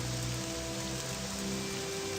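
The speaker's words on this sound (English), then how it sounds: "let's wait until the rain comes down, but no, it's even worse." Steady rain hisses down in Morrowind, a soft, even wash of patter that carries on at a low level throughout, with no voices.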